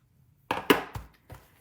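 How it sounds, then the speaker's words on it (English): Scissors snipping off the paper edges of a handmade Valentine treat box, a few sharp cuts close by, with a short quiet lead-in and no talking. "I'm gonna go ahead and cut off these edges."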